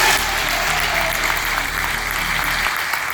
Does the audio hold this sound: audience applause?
yes